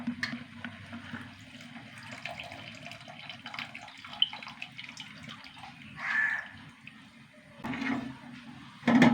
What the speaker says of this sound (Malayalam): ഇതിലേക്ക് പുളി ഒഴിച്ചു കൊടുക്കാം.